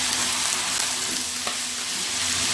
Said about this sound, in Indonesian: Dan ini ditumis-tumis dengan api sedang aja ya.